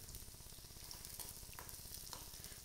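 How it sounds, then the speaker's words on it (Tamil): Onion and dried red chillies fry in a pan over heat. A faint, even hiss of frying carries on without a break, with a couple of soft stirring touches, quiet and close. "நல்லா ஃப்ரை ஆகுது"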